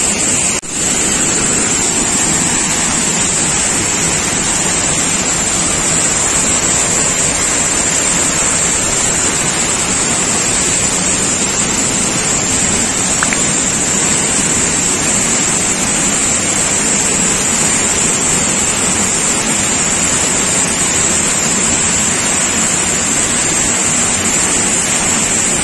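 A large waterfall carrying lots of water roars with a loud, constant broadband rush that holds steady throughout, with no talking over it.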